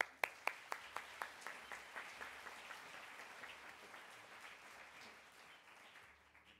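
An audience at a book awards reading applauds, beginning with sharp individual claps that quickly blend into a dense, fairly faint round of clapping that tapers off over several seconds.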